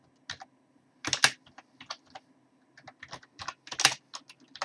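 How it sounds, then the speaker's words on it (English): Computer keyboard typing into a Word document: irregular bursts of quick, crisp key clicks at close range, separated by short pauses, with no voices. "So I would type it in Roman script, you see on this Word document."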